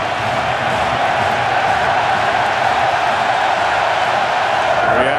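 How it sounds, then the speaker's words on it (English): A packed baseball stadium crowd in Kansas City at the 2015 ALCS serenades pitcher Johnny Cueto, a dense, continuous roar of many voices that stays loud and even throughout. "Reaction to the crowd serenading him, which they've been doing since the start of this game."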